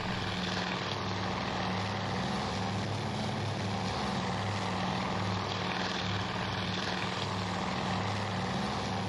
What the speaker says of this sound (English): I'll zoom out just to make the engine noise a little more bearable.